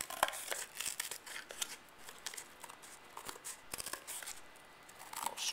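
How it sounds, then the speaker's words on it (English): Quiet, crisp snips and rustles of scissors cutting paper, irregular and close, with soft crinkling between cuts. "Use the scissors just to make the edges nice and square."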